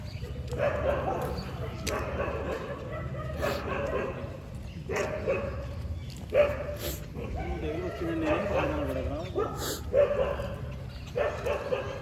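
Dogs bark repeatedly in short bursts at a moderate distance, with some yips and whimpers, underneath steady background noise.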